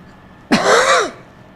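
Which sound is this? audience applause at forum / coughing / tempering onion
coughing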